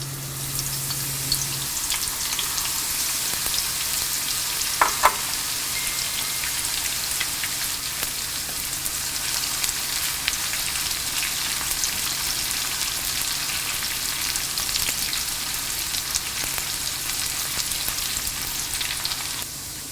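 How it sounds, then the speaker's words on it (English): Onions frying in a quarter cup of oil in a pan, a loud continuous crackling sizzle like steady rain that holds unchanged throughout, close and without any voices. "In the same pan, add 1/4 cup of oil and fry the onions."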